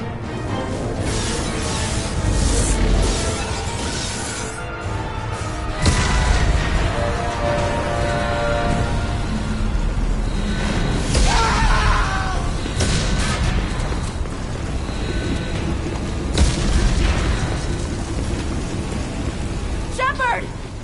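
Explosions and hull breaches aboard a spaceship in Mass Effect, a continuous loud roar of rumbling blasts and crackling fire, with voices speaking over the din.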